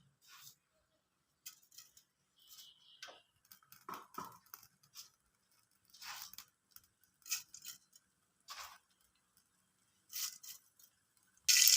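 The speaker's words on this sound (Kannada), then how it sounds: "ಈಗ ನೋಡಿ, ಚಟಪಟ ಅಂತ ಸಿಡಿತಿದೆ." Mustard and cumin seeds crackle in hot oil in a pressure cooker, a sparse run of sharp, faint pops and spits at irregular intervals against near silence.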